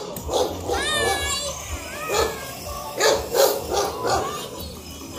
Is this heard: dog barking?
yes